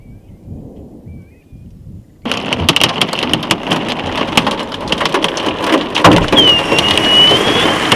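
A slow-moving thunderstorm near Gulgong in the Central Tablelands of New South Wales, Australia, with heavy rain pattering hard on surfaces and sharp cracks of thunder. A quiet low rumble opens the clip before the downpour bursts in loud and continuous.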